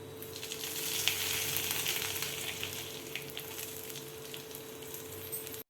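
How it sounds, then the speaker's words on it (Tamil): Steady, loud sizzling of okra frying in hot oil, continuous crackle and hiss with occasional pops, close by and uninterrupted. "வெண்டைக்காவை எண்ணெய் ஊற்றி நல்லா வதக்கி எடுத்துக்கலாம்."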